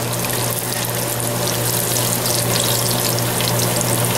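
Pork chops for Southern smothered pork chops sizzle loudly and steadily in a hot pan, a dense continuous frying hiss with no talk over it.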